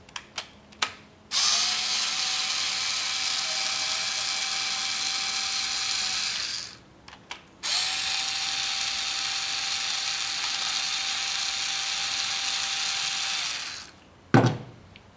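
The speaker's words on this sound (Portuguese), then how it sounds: "vou pegar aqui a parafusadeira e vou terminar de soltar os dois parafusos" A cordless screwdriver loosens the starter motor bolts on a Yamaha XV 250 Virago motorcycle, giving two long, steady, loud whirring runs of about five and six seconds, each bracketed by clicks, with a short clack at the end.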